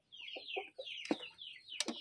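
Young Pelung chickens clucking and chirping in a short run of high, rising calls with a couple of sharper squawks, close by and fairly faint, without any talking.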